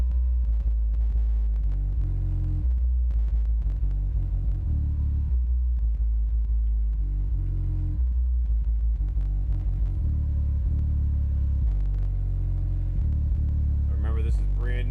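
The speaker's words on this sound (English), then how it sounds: "Taking some of the deep bass tones so far." A 12-inch Audio Legion subwoofer in a car thumps out deep bass tones, a heavy low rumble that pulses and throbs steadily throughout, loud and close, with a brief higher squeak near the end.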